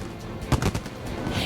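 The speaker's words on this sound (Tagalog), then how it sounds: "hundreds came to watch the annual fireworks display at the Red Square in Moscow" Fireworks going off at an annual display in Red Square, Moscow, heard as a quick series of sharp pops and bangs, one louder burst midway, over a rumbling outdoor background.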